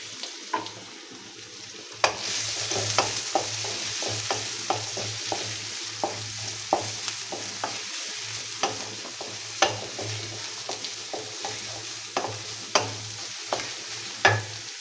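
Onions fry in mustard oil for a village-style hilsa fish curry, giving a steady sizzle close by. A utensil strikes and scrapes the pan again and again as the onions are stirred.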